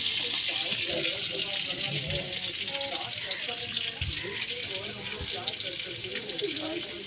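Lightly parboiled potatoes frying over a gas flame in a pan for Bengali tahari, a continuous close sizzling hiss under someone talking throughout.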